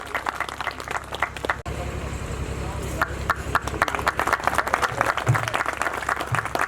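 Loud crowd applause during an award presentation at a school function in Sirsa, continuous rhythmic clapping with a low hum beneath and a brief pause early on.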